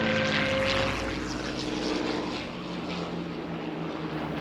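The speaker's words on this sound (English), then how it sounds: "There were Spitfires and Hurricanes and the Hispano-Bouchon playing the part of the Messerschmitt 109." Propeller aircraft fly at the Shoreham airshow during a Battle of Britain display with Spitfires and Hurricanes, a loud, steady droning engine roar close by that slowly fades slightly as the planes pass.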